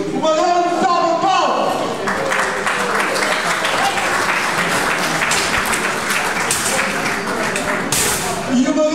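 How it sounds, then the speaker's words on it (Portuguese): A hall of people applauds Custódio Antunes at a pigeon racing awards ceremony, sustained clapping swelling after a voice over a microphone, with speech continuing on top. "uma grande salva de palmas para o Paulo"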